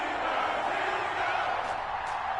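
Stadium crowd roaring at an NFL game between the Atlanta Falcons and Pittsburgh Steelers in a football video game, a steady dense wash of cheering and whoops filling the whole stretch at a constant loud level.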